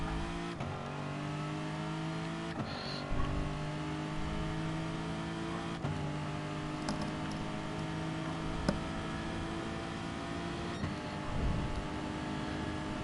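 A race car in Gran Turismo droning along with a steady engine whine, brief shifts and braking dips breaking the tone, close and continuous with no talk.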